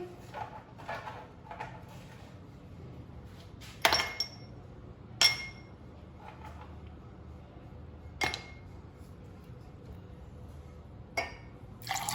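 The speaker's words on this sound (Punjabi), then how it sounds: "ਹੁਣ ਅਸੀਂ ਆਈਸ ਕਿਊਬ ਪਾਵਾਂਗੇ" Ice cubes clink one at a time into a glass of beetroot and lemon juice, several sharp bright taps spaced a few seconds apart over faint liquid sounds in a quiet room.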